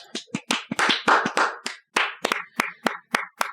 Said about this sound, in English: I hear a little bit of clapping at the other end of the room there